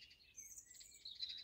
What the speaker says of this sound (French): Ah, petit moineau.